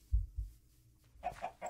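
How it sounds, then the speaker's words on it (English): A chicken in the video game Minecraft gives a few short, close clucks, with two low thumps at the start followed by three quick, evenly spaced calls near the end. "Oh, hello, chicken."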